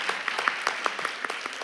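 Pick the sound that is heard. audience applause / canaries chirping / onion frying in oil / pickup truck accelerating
audience applause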